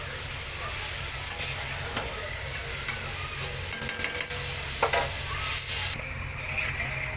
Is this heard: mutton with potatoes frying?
yes